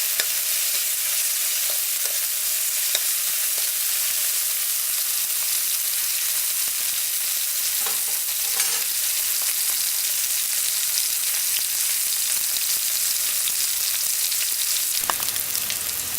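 Vegetables frying and caramelizing in a pan for mixed vegetable rice, a dense, even sizzle holding steady and close throughout, with a few faint clicks and no talk.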